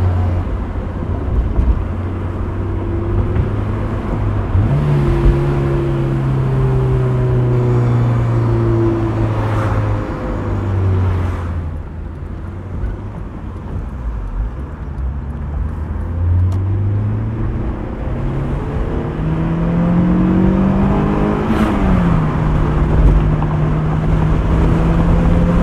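A bone-stock 2001 Honda S2000 engine revs repeatedly, its pitch climbing steadily and dropping back between pulls, loud and close from inside the car with no talking.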